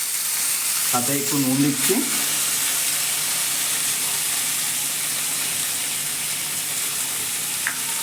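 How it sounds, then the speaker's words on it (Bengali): Cut potatoes fry in a pan of hot oil for chicken kosha, a loud, close, continuous sizzle that holds steady throughout, with a brief voice near the start. "আলুটা কেটে রেখেছি, এটা ভাজতে দিয়ে দিলাম।"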